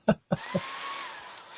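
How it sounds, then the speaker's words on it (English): A cheap Conair hotel hair dryer blows a steady broadband whoosh as it dries a card, following a few short bursts of speech at the start, and holds at an even level to the end. "I'm using the hotel hair dryer to dry my card."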